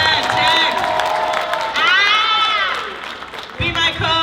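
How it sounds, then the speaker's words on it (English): A convention crowd at an evening panel whoops and cheers for the tech staff, loud and close, with shouted voices and scattered clapping that swell then drop off near the end. "Applause for the staff members."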